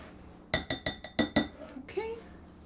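A tiny whisk clinks against a bowl while mixing ingredients for gluten-free salted dark chocolate and browned butter tahini cookies: about six quick, bright metallic taps in a row, then a brief softer scrape.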